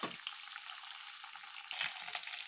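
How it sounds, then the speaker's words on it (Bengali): Eggs frying in oil in a pan, a close continuous crackling sizzle with a few soft stirring knocks, heard alone with no talk. "ভালো মতন লাল লাল করে ভেজে নিচ্ছি ডিমগুলো"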